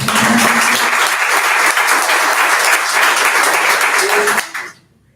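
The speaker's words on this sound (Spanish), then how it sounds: "Pero bueno, un aplauso, por favor." Attendees at a business meeting on solar photovoltaic energy in Colombia give a dense, loud round of applause that holds for about four seconds, then quickly dies away to silence.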